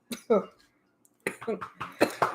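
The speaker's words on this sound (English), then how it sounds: "Coughing" A person coughs in two short bursts, then clears the throat and coughs again in a quick run of harsh, close, fairly loud hacks, with a brief silent pause between the two groups.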